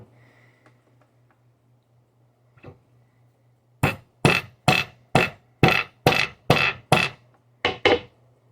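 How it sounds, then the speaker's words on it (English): A hammer strikes a wall in a run of about nine sharp, loud knocks, coming in a fairly steady rhythm after a quiet stretch with a faint hum and one lighter tap. "Are you hammering the wall?"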